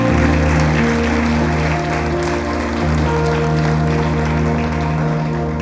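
A church congregation claps together in praise during a Sunday morning service, sustained loud applause filling the hall from start to finish with a steady hum beneath, no talk heard over it.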